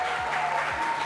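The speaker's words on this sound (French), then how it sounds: "On applaudit pour Marion." Audience applause at a French TV game show as a contestant joins the lucky-entry round, steady dense clapping for about a second with no voices over it.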